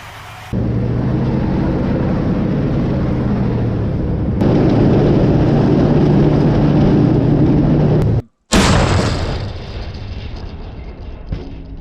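Loud, sustained rumbling blast noise from Russian T-72 tank fire striking Ukrainian positions, a heavy roar that cuts off abruptly, then a sharp burst and fading rumble follow.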